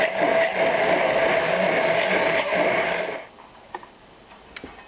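A blender purees an 1890s-style meat-sauce ketchup with about half an ounce of raw onion, a loud steady whirring that cuts off abruptly, leaving faint clicks and kitchen quiet.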